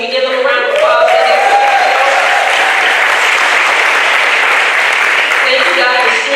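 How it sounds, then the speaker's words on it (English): Loud, sustained applause at a school district board meeting fills the room for several seconds, a dense uniform clatter of many hands, with a voice briefly rising over it at the start. "Can we give them a round of applause?"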